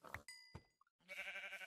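A sheep in Minecraft gives a short bleat at the end, preceded by a couple of brief game sounds and a ding, all quiet and close.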